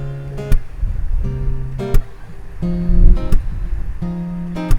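Fingerstyle acoustic guitar playing an arrangement of a song without the passing chord, rhythmic plucked chords with percussive string slaps at regular beats, close and clear with no talking.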